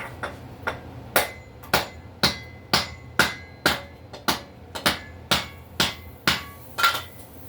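A steady series of sharp metallic strikes, about two per second, each ringing briefly, close and loud with no talking: a hatchet hammering a still slightly pressurized can in a basement.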